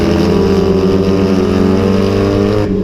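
A loud, rough tractor engine in an import car drones steadily up close, a deep harmonic rumble through a raw straight exhaust manifold, cutting off abruptly near the end.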